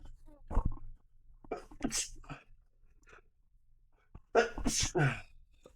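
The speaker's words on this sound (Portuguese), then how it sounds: "Bom, espirrei, deu para perceber." A person sneezes sharply indoors with a loud burst standing out from quieter talk, and short noisy bursts come before and after it.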